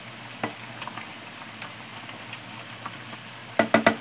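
A utensil stirs an Ilokano vegetable and pork stew with chicken in a pot, with quiet scattered scrapes over a low simmer, ending in a few sharp clanks against the pot.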